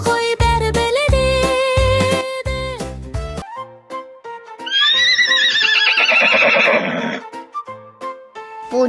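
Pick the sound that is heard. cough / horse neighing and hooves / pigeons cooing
horse neighing and hooves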